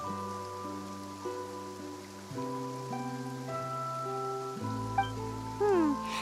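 Rain falling in the game Genshin Impact, a soft patter on surfaces beneath sustained music tones, with a few brighter chime-like flourishes near the end.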